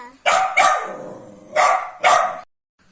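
A puppy barks four times in two quick pairs, close and fairly loud, with brief quiet gaps between.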